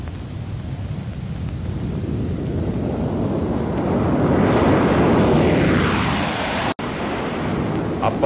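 A Boeing B-47 Stratojet jet bomber in flight makes a steady, loud, broadband jet roar that builds and swells in the middle, then continues as a windy rush, with no one speaking.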